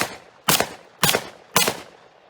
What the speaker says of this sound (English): We're going to replicate his shooting style, or so it appears in the show, here with a 357.